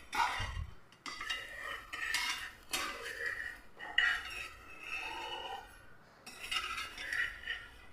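Metal utensil scraping and clinking against a pan while a wheat-flour palappam is lifted out, with several short clattering bursts close by and no talk.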